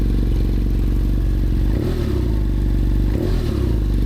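A 2015 BMW F800R motorcycle engine idles loud and close with a deep, even pulsing rumble, broken by two quick throttle blips that swell the sound before it settles back to idle.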